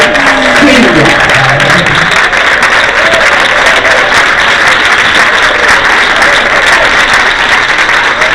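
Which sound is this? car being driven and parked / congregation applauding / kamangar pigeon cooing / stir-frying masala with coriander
congregation applauding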